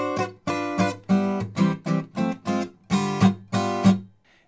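An acoustic guitar plays a ragtime-style intro in about ten crisp strummed chord hits, each ringing briefly before the next, close and clear with no voice.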